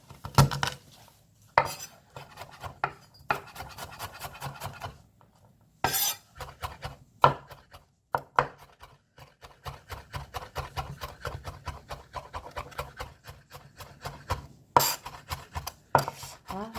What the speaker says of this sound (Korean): 마늘을 다져 넣겠습니다.